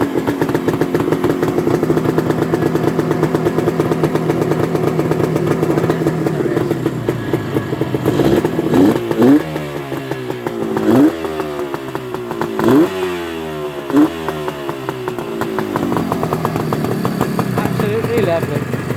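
A Suzuki GT250C motorcycle engine runs loud and close, a raspy two-stroke drone that blips through several sharp revs in the middle before settling back to a busy idle, with a voice talking over it.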